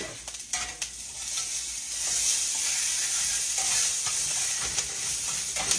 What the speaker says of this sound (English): I'm just kind of browning these up just a little bit